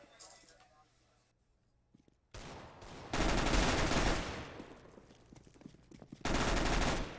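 Counter-Strike gunfire during a tournament match opens with quiet clinks, then breaks into sustained loud rapid-fire bursts, a brief lull, and another volley, with a caster talking over the shooting.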